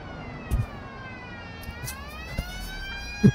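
A police siren wails in the driving simulator BeamNG.drive, its rising and falling tone steady throughout, with a few thuds and knocks from the car underneath.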